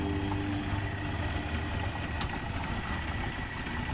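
A 1974 Toyota Corolla KE20 engine idles low and steady at too-low RPM, with a slightly uneven, lumpy rumble throughout and no other sounds.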